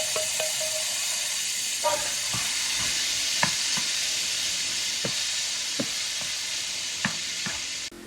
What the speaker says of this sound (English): We're going to saute our shrimp. It already is coated with oil.